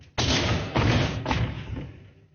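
Feet jump onto a plastic bottle cannon lying on the floor, producing loud, close, broadband thuds and a crumpling blast that trails off over about two seconds.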